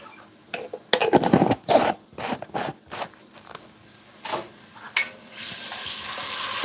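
Minced garlic frying in a pan, with irregular bursts of scraping and stirring sizzle, then a steady hiss building toward the end, fairly close.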